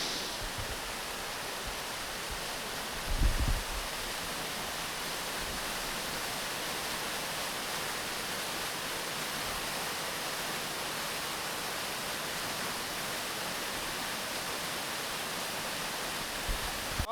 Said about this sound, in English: just surrounded by moss and a huge waterfall